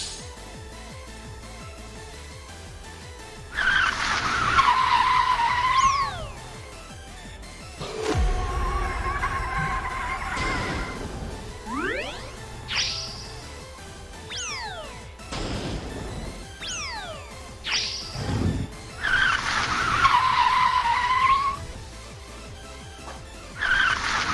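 An underpowered car races in a video game, its engine revving in repeated rising and falling pitches, broken by loud crashes and skids, with little or no talk.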